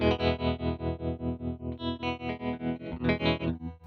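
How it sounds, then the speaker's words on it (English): A heavily processed guitar chord through an Eventide UltraTap delay pedal pulses in a steady, choppy tremolo about four times a second, with a washy, echoing ambience trailing behind it. "it's a kind of a tremolo ambiance thing"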